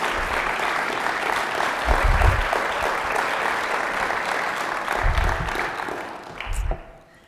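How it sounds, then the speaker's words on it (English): A lecture-hall audience at a university lecture series gives a steady round of applause for a retiring professor, dense clapping throughout with a few louder swells, tapering off at the end. "Let's give them another round of applause, please"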